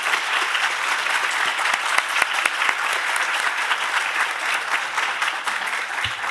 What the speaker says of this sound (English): A round of an applause for him, the president of the conference,